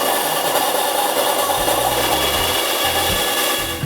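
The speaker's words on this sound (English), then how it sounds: "The bandsaw was pretty scary." A bandsaw cuts wood for a handmade touring guitar. The blade gives a loud, continuous whine and rasp, and the low grinding rises and falls as the wood is fed through. No speech is heard.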